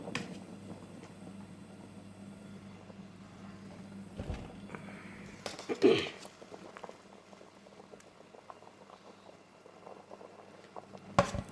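Steady bubbling of water at a rolling boil, continuous throughout, with a few faint clinks and taps in the background.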